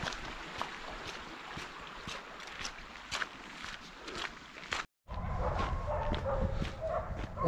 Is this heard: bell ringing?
no